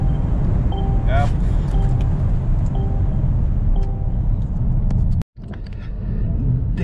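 Mercedes-Benz EQC 400 electric car under full acceleration at high speed on a road in India, heard from inside as a loud, steady rumble of road and wind noise with a faint rising whine, briefly cut near the end.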